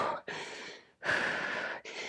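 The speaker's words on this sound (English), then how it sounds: "I know the breathing is heavy." Heavy, forceful breathing during an intense total-body conditioning workout, three long rasping breaths close to the microphone with short pauses between them.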